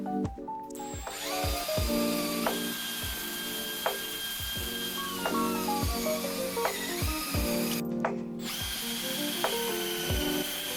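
A power drill fitted with a polishing head whines steadily while buffing a 1990s Cannondale M900 mountain bike frame, its pitch wavering as it presses on the metal, with sharp clicks and bumps scattered throughout.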